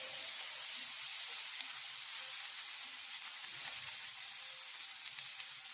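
Chopped onion for a shawarma roll sizzles steadily in a hot pan, a continuous broadband crackle and hiss with faint stirring scrapes, close and alone without any voices.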